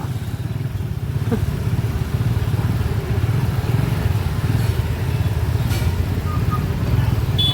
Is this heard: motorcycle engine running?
yes